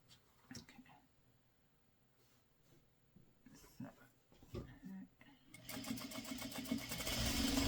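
A sewing machine runs steadily near the end while stitching the base onto a Santa quilt block, after quieter handling sounds and some speech earlier.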